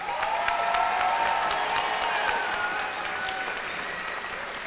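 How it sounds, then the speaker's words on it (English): Sustained crowd applause for the graduates at a 2022 Head Start graduation ceremony, a dense, steady wash of many hands clapping that holds evenly throughout and tapers only slightly. "Let's give a big round of applause for our graduates"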